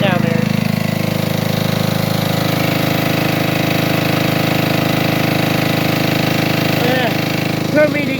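An old generator engine runs steadily and loudly throughout, a continuous mechanical drone with a few brief higher squeaks near the end.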